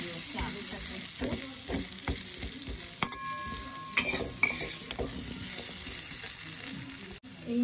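Cubed potatoes and paneer sauté in a pan with ginger, coriander, cumin and turmeric, crackling steadily while a spoon stirs and scrapes. Several clinks of metal against the pan come through, along with a brief ringing tone partway through.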